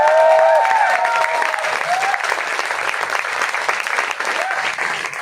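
Audience at a training seminar for the AWPL company claps loudly and continuously, a dense wash of many hands with a few faint tonal sounds over it.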